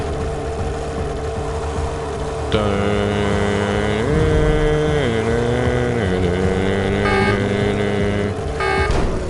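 A hover scooter flies in the video game Jak and Daxter with a continuous loud engine drone. Its pitch shifts up and down as the scooter moves, a higher whine joins in after a couple of seconds, and brief bursts of noise sound near the end.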